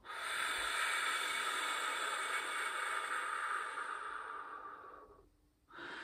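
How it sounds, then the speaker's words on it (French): A slow, steady exhale through the mouth during a calm breathing exercise, a soft breathy hiss lasting about five seconds before fading, followed by the start of a fresh breath. "Et on souffle lentement."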